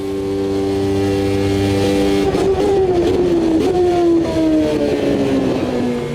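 Formula One car engine in the sim racing game AMS2, a loud, steady high-pitched whine that holds and then rises and shifts through gear changes, with no talking.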